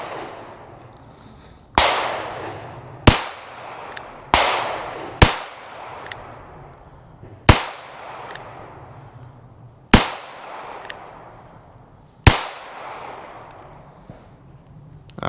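Seven sharp, loud gunshots from a North American Arms mini revolver with a 2-inch barrel, fired one at a time at irregular intervals of one to two and a half seconds, each followed by a short ringing decay.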